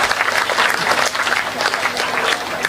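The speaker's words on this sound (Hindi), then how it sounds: "ताली जोरदार बजाओ।" A live audience at a Hindi comedy poetry gathering breaks into loud, dense applause that holds steady for a few seconds.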